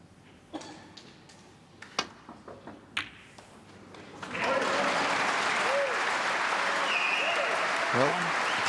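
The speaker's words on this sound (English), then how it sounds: "Now, you're getting some applause" Snooker crowd at the 2017 German Masters, Ronnie O'Sullivan against Mark King: a few sparse clicks and taps give way to loud, dense, sustained applause filling the hall, with a commentator's voice briefly over it.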